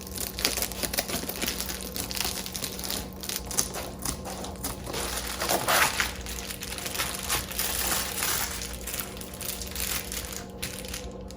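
A Reflectix foil-bubble insulation sheet is trimmed for a window insert, giving a steady close crinkling and crushing of foil plastic that swells slightly midway and runs continuously without talk.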